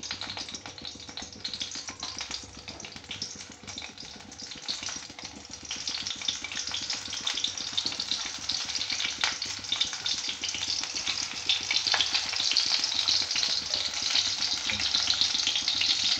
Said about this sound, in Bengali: এরপরে পেঁয়াজগুলোকে দিয়ে দিতে হবে ফ্রাই করার জন্য।